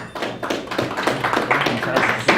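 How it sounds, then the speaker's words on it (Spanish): Audience applause after a presentation of a noise-alert app, sparse distinct claps in an irregular rhythm, fairly close, with voices talking over it. "Un aplauso, por favor"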